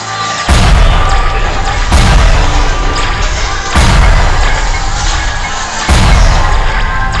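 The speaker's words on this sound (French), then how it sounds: "essayons avec des explosions" Explosions in a theme-park ride shooting game at Disneyland, four heavy booming blasts about every two seconds, each a sudden loud burst decaying into a rumble, with no talk over them.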